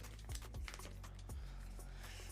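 A mechanical keyboard with Cherry MX switches being typed on, producing a quick run of crisp, close clicks and clacks in an irregular rhythm.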